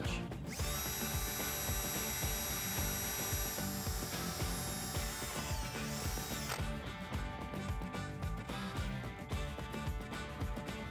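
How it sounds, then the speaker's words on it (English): A power drill runs steadily with a 3/16 inch bit boring a pilot hole during a Jeep Wrangler JK coil spring lift install, a loud continuous high whine that shifts pitch partway as the bit bites, with no talking. "Now I'm gonna start a pilot hole with a 3/16 inch bit and then step up to a"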